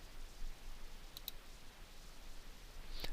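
Two quick mouse clicks close together, followed a couple of seconds later by one more sharp click, crisp and near against quiet room noise.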